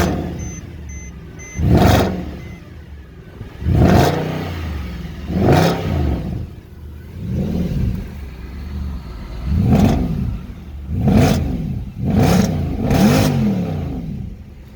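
Mercedes C63 AMG with an aftermarket exhaust, warmed up and blipped repeatedly: about eight sharp, loud revs rising and falling over a rumbling idle, spaced roughly every one to two seconds, close by.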